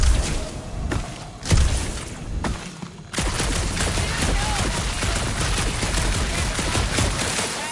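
Gunfire in Guardians of the Galaxy on PS5, a burst of sharp shots and impacts in a dark area, then dense continuous crackling fire and clatter that persists loudly to the end.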